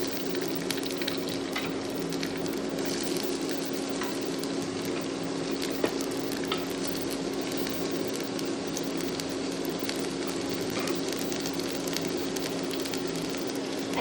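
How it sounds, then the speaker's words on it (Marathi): Finely chopped onion frying in a pan, a steady dense sizzle and crackle that holds evenly throughout at close range with a constant low hum beneath. "बरें अशें तळसून घेवपाक जाय."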